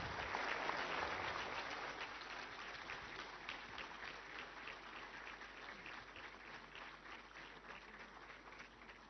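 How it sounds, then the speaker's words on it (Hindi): An audience in a hall at a New Delhi seminar applauds to greet Prime Minister Narendra Modi, a dense sustained clapping that starts strong and slowly thins over about nine seconds, with no speech over it. "एक बार जोरदार तालियों के साथ माननीय प्रधानमंत्री श्री नरेंद्र मोदी का अभिवादन"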